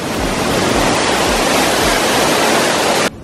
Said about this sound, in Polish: Wiedziałem, że gdzieś tu jest wodospad, bo słyszałem w oddali szumiącą wodę.